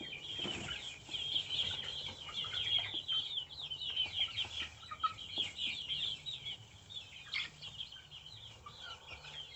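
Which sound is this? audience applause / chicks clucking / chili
chicks clucking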